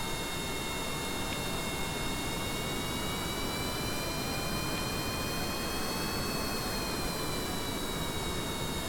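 A rocket engine throttles up in Kerbal Space Program, heard as a steady roar of broad noise with thin whining tones above it that rise slightly and hold, continuous and fairly faint with no talking.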